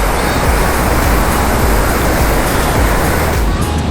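A dense, loud, continuous rush of water pours at Kallanai Dam, a broad roar that fills the whole clip without pause and masks everything else.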